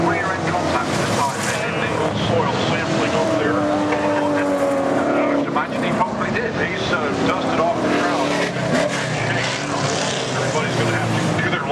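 V8 race cars speed around Brands Hatch with a continuous engine roar and rising and falling passes, while a commentator talks throughout.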